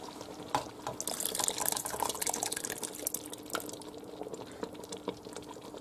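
An almond, garlic and cognac mixture is poured over chicken, giving a soft liquid splash and trickle with a few drips, quiet and close, with no talking.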